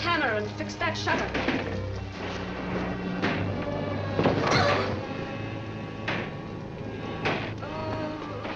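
A loose window shutter bangs irregularly in a storm, sharp knocks recurring every second or so amid voices and steady background noise, in a 1946 noir thriller film.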